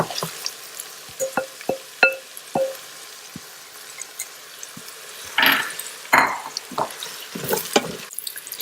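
Marinated minced lamb keema going into a hot Instant Pot, with soft frying sizzle and scattered stirring clatter and scrapes, close and moderately quiet, no voices.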